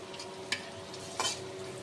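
Red lentil and egg pakoras sizzle softly in hot oil, a steady low frying hiss with two brief louder crackles as batter is added or stirred.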